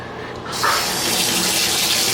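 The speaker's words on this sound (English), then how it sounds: "actually that's a really nice shower head. Lots of pressure." Hotel shower at a Staybridge Suites in Kissimmee, Florida, running hard with strong water pressure, a steady loud hiss of spray that swells after a brief quieter start and stays alone and constant.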